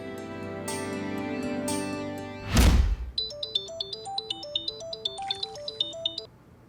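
Mobile phone ringtone for an incoming call, a bright repeating melodic chime that starts after a thud and keeps playing steadily and clearly, close and alone over faint background music.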